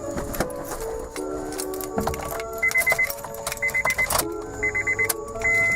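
Fuel pump priming in a turbocharged Acura RSX with a K20/K24 swap and injectors unplugged, heard as a few short repeated whirring buzzes between dashboard chimes and interior clicks, fairly close inside the car.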